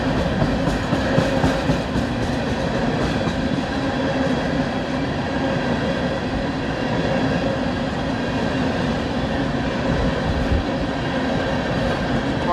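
A BNSF train rolls past on tracks at Plattsmouth, Nebraska, with a loud, continuous rumble and clattering wheels, close by, throughout with no talk.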